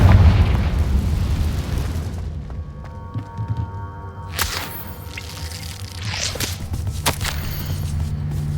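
A Confringo blasting spell from a video game bursts with a sharp crack, rumbles with booming debris, then gives a second whip-like burst over a steady low hum.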